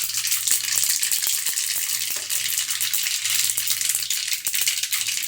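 Cumin and mustard seeds sizzle in hot oil for a tempering while making Manchurian, a dense continuous close hiss with rapid popping crackles throughout and no talk.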